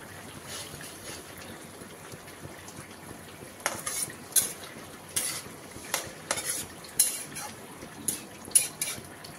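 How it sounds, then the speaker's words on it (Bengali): A spoon stirs fish into a leafy-greens curry in a pot: rhythmic, close metal scrapes and soft wet sloshing over a low simmering hiss, with no talking. "মাছ দিয়ে নেড়ে চেড়ে ব্যাস শাক কমপ্লিট রান্না"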